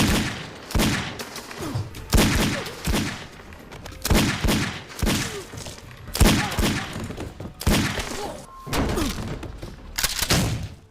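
Gunfire in a film scene comes as repeated loud bursts and heavy thuds that crowd over one another, with crashes and debris falling between volleys.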